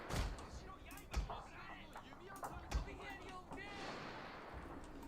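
Cannon artillery fire in the modded strategy game Shogun II during a siege from land and sea, with about three dull booming shots spaced a second or so apart over a steady battle din and faint voices.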